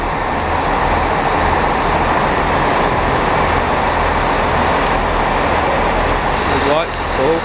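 A GWR Class 165 diesel multiple unit in Portsmouth Harbour station gives a steady, loud rumble of engine and wheels that holds for several seconds, with a brief rising squeal near the end.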